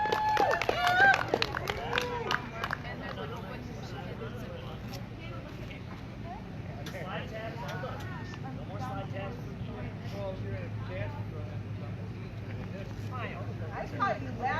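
A race-night crowd at the TNT Points Event applauds the winner, Hannah Moore. A voice speaks briefly at the start, then a dense, steady wash of clapping and crowd noise carries on for over ten seconds.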